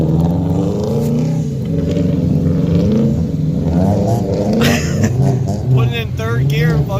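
A 2015 Subaru WRX engine revs while drifting in snow at a meet, a loud steady drone rising and falling in pitch beneath someone talking throughout.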